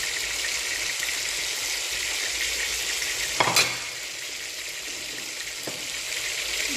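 Spinach vegetable soup fries in a pot while being stirred: a loud, even sizzling hiss runs throughout, with one clear clank of a utensil midway.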